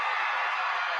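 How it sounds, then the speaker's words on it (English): Applause sound effect triggered by a button, a steady, continuous wash of clapping and crowd noise held at an even level for about a second. "Hit that button for the applause."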